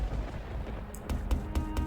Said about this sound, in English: suddenly there was a loud banging on the door